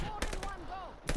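Gunfire in the multiplayer video game Call of Duty Vanguard: a few sharp, loud shots in quick succession, with a voice talking over them.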